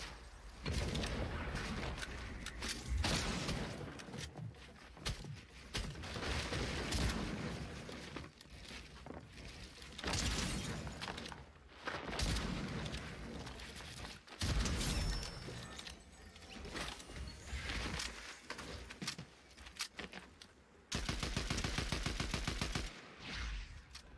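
Bursts of SMG and DMR gunfire in Fortnite, rapid stuttering volleys and sharp single cracks that come in waves with short gaps, loud and up close.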